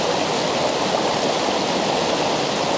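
A waterfall in autumn woodland rushes as a steady, loud wash of water, alone and unchanging throughout, with no talking.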